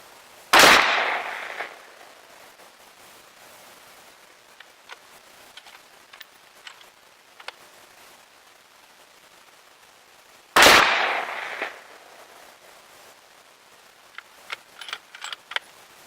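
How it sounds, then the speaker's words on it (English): .223 rifle firing 55 grain FMJ rounds at a car hood 300 yards away, two sharp loud cracks about ten seconds apart, each trailing off into a brief echo, with faint clicks and handling noises between. "we got 5 more rounds loaded up, and let's shoot some more"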